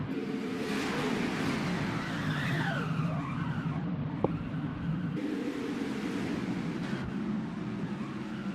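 Race cars skid and crash into the wall on an oval track during a multi-car wreck in the pack, a continuous roar of engines and squealing tires with one sharp impact midway.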